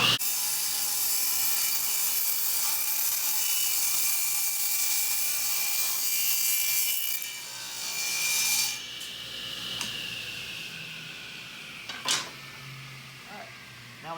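A scrap 2x4 board fed against a saw fence to trim off its rounded edge gives a steady, loud, hissing cut for several seconds, then trails off into a few scattered knocks and scrapes.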